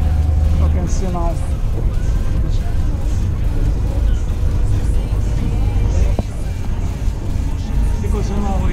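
Loud, steady rumble of an old marshrutka minibus engine in Poltava, Ukraine, heard from inside the vehicle, with rattling and road noise throughout and a voice talking over it.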